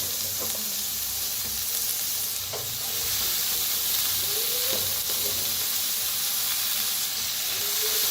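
Long-cut cabbage stirred into hot oil and tomatoes in a pan gives a steady, close sizzling hiss, with scraping stir strokes surfacing now and then.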